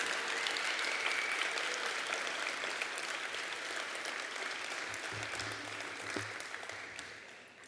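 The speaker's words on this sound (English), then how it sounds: "let's give the families and the friends a big round of applause for supporting you on this road" A crowd at a university convocation ceremony gives a long, steady round of applause for the graduates' families and friends, dense and even, then thinning and fading near the end, with a brief voice at the back.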